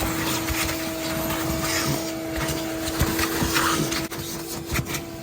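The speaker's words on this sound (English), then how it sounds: "Vacuum the seat." A steady vacuum motor whines continuously with a constant tonal hum, the suction noise shifting slightly as the nozzle moves over a car seat's fabric, close by.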